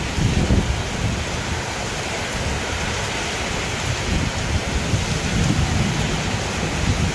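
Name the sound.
heavy rain and thunder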